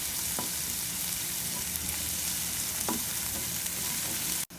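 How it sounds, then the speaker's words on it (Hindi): Ginger and garlic frying together with golden onions in a pan, a steady close sizzle with a few soft stirring clicks, loud and continuous to the end. "अदरक लहसुन 1 टीस्पून इसमें शामिल कर दें और इसको भी प्याज के साथ फ्राई कर लें"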